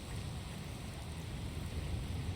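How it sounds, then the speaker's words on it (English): Steady rain falls with low rumbling thunder during a storm in the video game Dragon Quest Builders 2, a soft, continuous wash without voices. "Looks like there's another storm rolling in."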